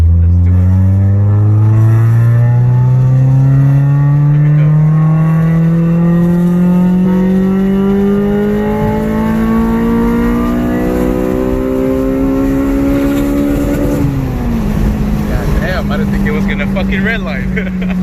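An engine running on a dyno screams steadily upward in one long, loud rev toward redline, then drops back slightly and holds, with someone talking beneath the noise.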